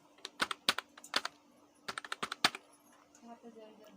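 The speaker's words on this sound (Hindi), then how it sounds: "ईमेल टाइप करिए, और एक पासवर्ड टाइप कर लीजिए" Someone types an email address and password on a computer keyboard: two quick bursts of crisp, close keystrokes separated by a short pause, then a quieter stretch with faint background hum.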